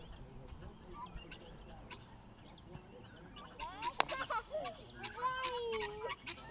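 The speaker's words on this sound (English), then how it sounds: "Hold on, duck crossing. Turkey crossing." Ducks and turkeys crossing on a homestead give a run of honks, quacks and squawking calls that grow busier in the second half, set against outdoor background noise.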